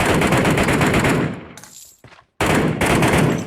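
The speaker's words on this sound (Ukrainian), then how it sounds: "Але я бачу, що він стріляє" Video game gunfire: loud, continuous bursts of rapid automatic fire, a brief pause with a short burst, then heavy firing resumes, close and dense.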